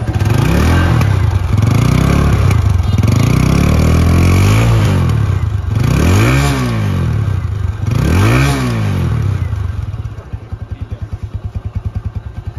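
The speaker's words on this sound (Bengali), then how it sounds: "এখন আমি আপনাদের চলেন শোনাই অ্যাপাচি আরটিআর 2V-র নতুন যে ভেরিয়েন্টার, এটা র সাউন্ড" A TVS Apache RTR 160 2V Race Edition motorcycle engine revs up and down repeatedly, loud and close, with rising and falling sweeps, then settles into an even, pulsing idle.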